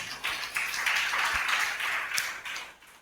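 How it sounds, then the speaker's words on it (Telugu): A church congregation at a Sunday service claps together in a dense burst of applause that swells and then fades over a few seconds, close and fairly loud. "అది గట్టిగా ఇప్పుడు చప్పట్లు పడదాం."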